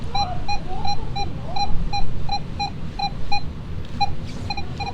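Minelab Manticore metal detector sounding off a hammered Roman coin: a repeating series of short, clear high beeps in a steady rhythm, loud over a rough low ground hum with no voices.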